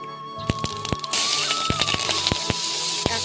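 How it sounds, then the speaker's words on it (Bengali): Panch phoron, a five-spice mix, hits hot oil in a heated pan, setting off a run of sharp, separate crackles and pops. About a second in, a bright, continuous sizzling hiss rises and carries on under the popping. "এবার তেলের মধ্যে 5 ফোড়ন দিয়ে দিচ্ছি।"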